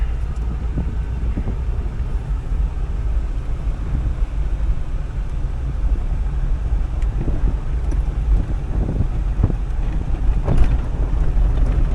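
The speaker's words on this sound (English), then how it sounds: "Blown out rear suspension shocks, just bouncing around" A 2002 Toyota 4Runner driving with blown-out rear suspension shocks, steady rumbling road and wind noise with occasional low thumps and knocks as the body bounces, continuous and fairly loud.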